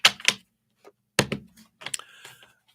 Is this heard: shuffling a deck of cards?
yes